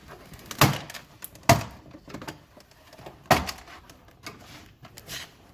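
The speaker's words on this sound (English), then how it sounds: "start working your way through the door panel on the bottom, splitting it from the door." Plastic clips of a Chrysler Crossfire passenger door panel snapping loose as the panel is pried off the door, three sharp close knocks with softer rustling and scraping between them.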